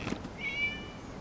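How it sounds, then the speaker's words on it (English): A single short cat meow, fairly faint, rises briefly over quiet ambience during the Irodori Festival event in Inazuma in the video game Genshin Impact. "It was just a cat."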